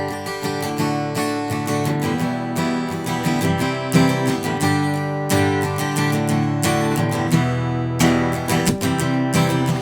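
Guitar in standard tuning playing the start of a song, with rhythmic, ringing strummed chords that are loud and close and continue steadily without any voice.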